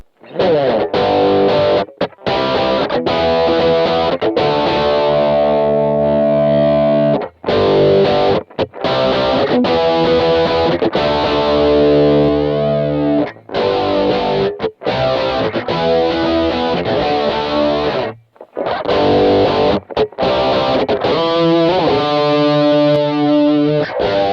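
Loud distorted electric guitar chords and riffs through a Dunlop MXR Rockman X100 pedal, heavily saturated and sustained, with brief pauses between phrases and no talking.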